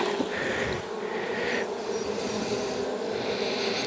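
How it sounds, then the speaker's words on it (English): Honey bees hum around an open beehive full of capped and emerging brood, a thick, continuous buzz that stays close, with individual bees swelling briefly louder as they pass. No one speaks. "Too many bees to look."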